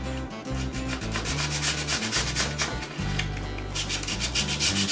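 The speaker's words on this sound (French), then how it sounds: "Donc je le fais directement au papier à la main." Sandpaper is rubbed by hand over a wooden dining chair in steady, rasping back-and-forth strokes, close and continuous, with no talk.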